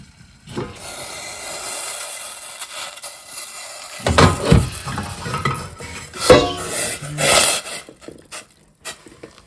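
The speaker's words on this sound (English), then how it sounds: "I'm gonna give this a good stir and we'll come back" Potato starch mixture being stirred in a container, with scraping and clinking utensil sounds that come in irregular bursts, louder in the second half, with no talking.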